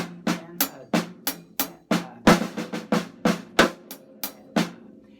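Drum set played close in a paradiddle beat with accents on three and four: a quick run of crisp strikes, some doubled and grouped, with louder accented hits standing out in a shifting rhythm.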